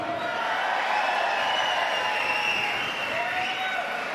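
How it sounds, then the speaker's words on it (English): A crowd at an MMA event cheers and claps in a steady, moderately loud wash of noise with no single voice standing out. "Give us a cheer."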